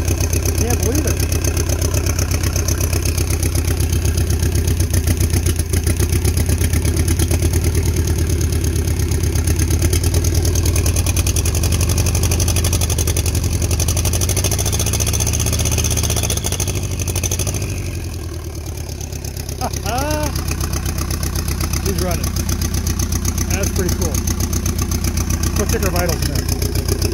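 A loud engine with open exhaust idles steadily and roughly up close, its deep throbbing rumble continuous throughout, with a brief dip in level partway through.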